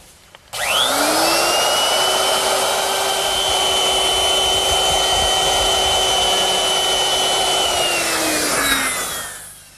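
A woodworking router fitted with a quarter-inch round-over bit eases the edge of a wooden part in a workshop: a loud, steady high whine spins up abruptly, holds for about eight seconds while cutting, then winds down.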